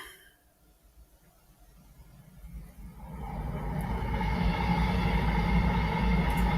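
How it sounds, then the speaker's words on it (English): A London-bound train approaches, its rumble rising from quiet to a loud, broad, sustained roar that builds steadily and holds to the end, with no voices. "Oh, that's the London train coming."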